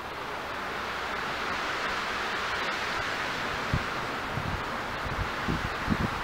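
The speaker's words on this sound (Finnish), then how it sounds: "Täällä vähän tuulee." Steady wind blows outdoors, a broad continuous rush with a few soft low thumps of buffeting near the end, with no voices.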